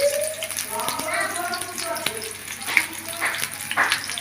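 Chopped onions fry in oil for a bitter gourd dish, giving a steady crackling sizzle broken by soft stirring clatters, with a voice speaking over the cooking.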